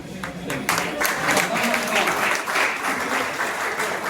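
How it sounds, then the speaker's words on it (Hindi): An audience at a block-level school quiz competition claps loudly and continuously for the full four seconds, a dense steady applause with faint voices mixed in. "जोरदार ताली बजनी चाहिए।"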